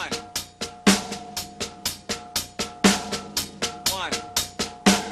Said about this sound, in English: all the 16th notes, really quietly, using ghost strokes, with that hand